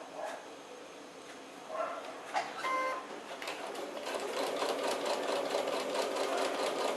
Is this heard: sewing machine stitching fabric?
yes